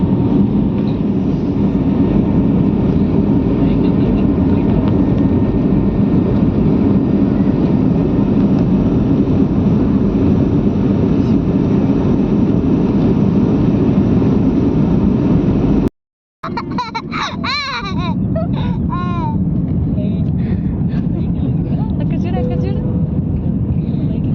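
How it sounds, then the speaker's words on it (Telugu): A passenger jet on a Bengaluru to Thiruvananthapuram flight takes off and climbs, with a loud, constant engine roar filling the cabin. After a brief cut near the end, voices are heard over the continuing drone. "ఇక్కడైతే ఇంకా ఫ్లైట్ ఫ్లై అవుతుంది పైకి వెళ్తుంది"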